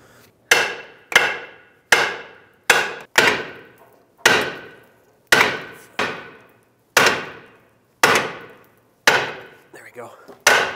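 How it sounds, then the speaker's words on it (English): Repeated metal-on-metal hammer blows on a small pry bar held against a 2003-2007 Nissan Murano lower ball joint, about a dozen sharp, loud ringing strikes at a steady, slightly uneven pace, close to the microphone. "but also hammer at the same time"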